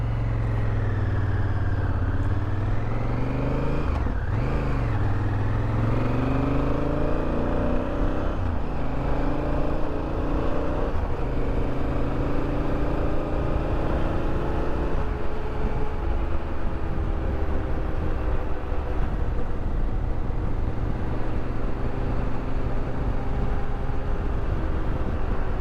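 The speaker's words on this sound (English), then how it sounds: "This stock exhaust has just a little bit of a rumble to it." Stock exhaust of a Honda Africa Twin motorcycle rumbling steadily while riding, a continuous low engine drone that rises and falls slightly in pitch, close and loud, with no talk.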